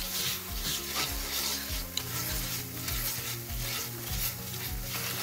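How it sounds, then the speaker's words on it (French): Flour toasting in a pan for a sauce, a steady soft sizzle with rhythmic scraping strokes from stirring, close up and with no talk. "C'est important de le faire griller un peu, parce que sinon la sauce va avoir un goût de farine qui n'est pas agréable."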